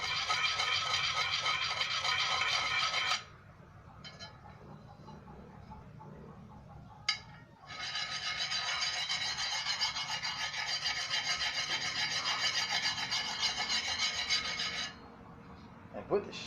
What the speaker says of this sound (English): Got a little ding here. Just grind it out.